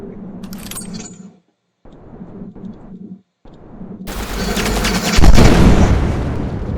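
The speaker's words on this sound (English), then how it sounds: "Missile launch." Missile launch in a space starship fighter video game: staccato bursts of firing, then a loud roaring whoosh and blast that swells and holds to the end.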